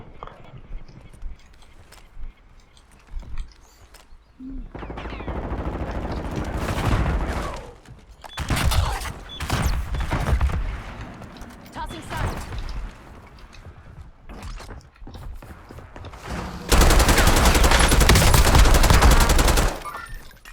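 Call of Duty Warzone gunfire from an LR 7.62 rifle comes in scattered sharp shots and short bursts of varying loudness, with a dense, loud stretch of firing near the end and someone talking between shots.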